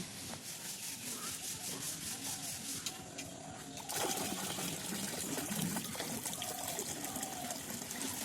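Urad dal being washed by hand in water, with continuous wet rubbing and trickling that grows louder and busier partway through, fairly close and steady throughout.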